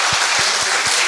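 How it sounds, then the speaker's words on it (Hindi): An audience at a Hindi kavi sammelan poetry gathering breaks into dense, steady applause, a loud continuous wash of many hands with a few low thumps pulsing beneath it. "बड़े भैया अर्जुन सिसोदिया के साहस के लिए एक बार जोरदार तालियां बड़े भाई के लिए आप निवेदित करें।"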